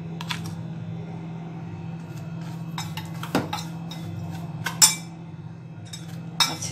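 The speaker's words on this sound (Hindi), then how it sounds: "अब हम इसमें पिसी हुई चीनी मिक्स करेंगे 4 चम्मच।" Spoon stirring powdered sugar into coriander powder in a bowl for a festival offering, with scattered light metallic clinks and scrapes over a low steady hum.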